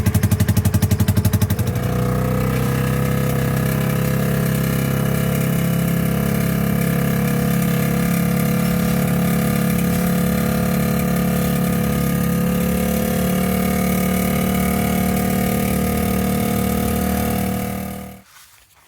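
A vehicle engine with a failing fuel pump runs steadily and loudly at a close distance, holding an even idle-like drone for about eighteen seconds before cutting off abruptly, with no voices.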